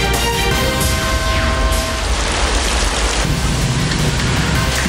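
Typhoon rain and strong wind lashing down in Quezon province, a loud, continuous roar of heavy rain with a steady wash of noise from start to end, close and unbroken, with no voices.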